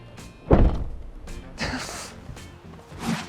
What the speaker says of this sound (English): When I shut the door, the air pressure change will actually cause the roof to wobble.